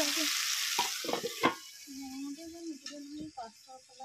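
Okra, tomato and potato splutter and sizzle in a pan, with sharp pops and stirring scrapes over a soft frying hiss. A voice hums a tune faintly underneath.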